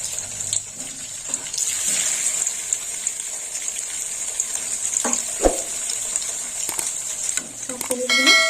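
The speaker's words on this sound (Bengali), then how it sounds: "সব পনিরগুলো একসঙ্গে দিয়ে দিলাম, একসঙ্গে ভেজে তুলে নেব।" Paneer cubes sizzle and fry in a pan, a steady bright hiss broken by stirring clatters and a few sharp utensil knocks, with a faint voice at moments.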